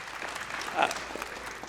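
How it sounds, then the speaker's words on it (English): An audience applauds a guest being introduced at a foreign aid policy forum, a steady wash of clapping at moderate level that swells briefly midway, with a faint voice over it. "Mark, yeah, please applaud Mark"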